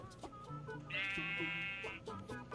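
Blocky sheep or lamb in a Minecraft village gives one sustained bleat lasting about a second, clear over a light game soundscape with soft background clicks.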